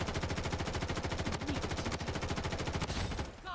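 Rapid automatic M4A1 rifle fire in the shooter game Blood Strike, a dense unbroken burst of close, loud shots lasting several seconds before cutting off.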